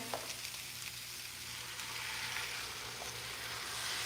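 Potatoes for Zuppa Toscana soup go into a hot pot, giving a steady, quiet sizzle and fry with a faint stir near the start and a low hum underneath, and no talk.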